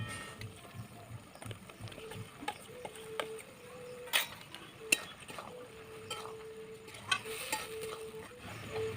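Yogurt-marinated soybean chunks go into a pan with a soft, low sizzle, followed by scattered clinks and scraping of stirring, fairly quiet and with no voice.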